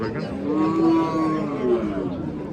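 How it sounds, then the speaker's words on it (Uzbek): A cow moos at a livestock market in Baxmal, Jizzax, one long, loud, drawn-out low call with a shorter tail, set against crowd chatter. "Sigir bor ekan."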